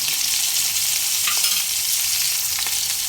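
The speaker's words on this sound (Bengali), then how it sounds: "হালকাভাবে ভেজে নেব" Brinjal, taro and potato pieces fry lightly in hot oil in a pan, a steady close sizzle with occasional scraping stirs and small clicks of a spatula.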